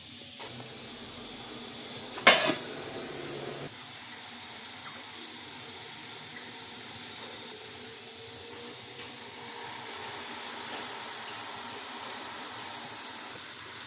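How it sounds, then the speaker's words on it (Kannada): Remaining water is poured into a cooker in a home kitchen, giving a faint, steady hiss of flowing water after a brief clatter near the start. "ಉಳಿದ ನೀರು ಹಾಕಿ ಆಯ್ತು"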